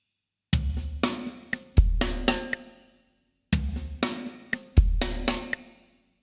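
A drum fill is played twice on a kit, opening with one floor tom hit and continuing with quick snare strokes and accents. Each pass is a short, punchy burst ringing out briefly, with a pause between.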